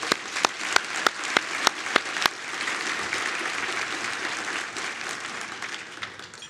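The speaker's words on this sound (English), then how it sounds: "Let's give them a round of applause" A banquet audience at a community foundation celebration applauds its lead sponsors, starting with a few sharp, distinct claps that quickly swell into steady, full applause which then holds at an even level.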